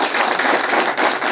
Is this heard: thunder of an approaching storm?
no